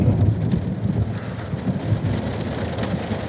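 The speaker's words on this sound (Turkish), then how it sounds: "Gök gürültüsüne bak." Heavy rain pours during a thunderstorm in İzmir, a steady dense hiss over a low continuous rumble of thunder, loud and unbroken throughout with no one talking.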